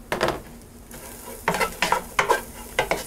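A spoon stirs parsley flakes into roast tomato sauce in a pan with the heat switched off, making several rhythmic scraping strokes over a soft residual sizzle, close by, with no talking.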